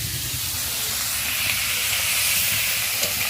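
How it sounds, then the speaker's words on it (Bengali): Onions frying in oil flavoured with hilsa fish oil, a dense, steady hiss with fine spattering that stays even and close for the few seconds heard, with no voices. "পেঁয়াজটা ভালো করে সুন্দর লাল লাল করে ভাজতে হবে।"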